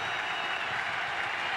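A large stadium crowd roars and applauds at a Bulls college football game at Raymond James Stadium, a dense, sustained wash of noise with no gaps.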